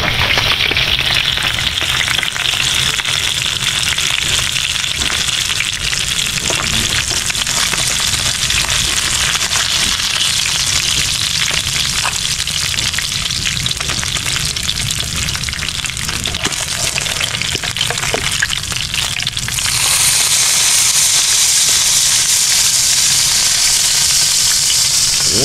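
Food frying in a pan gives a loud, steady sizzle that crackles like rain for the whole stretch, with occasional stirring scrapes and a brighter hiss rising near the end; no one speaks.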